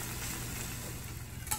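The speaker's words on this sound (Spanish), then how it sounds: "voy a agregarle las papas para que se doren junto con la carne. Así las voy a estar meneando." Chunks of steak and potatoes sizzle in a hot pan while being stirred and browned together. The frying crackle is steady and close, with soft scraping from the stirring and no voices.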